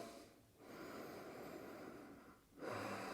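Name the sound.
breathing during exercise hold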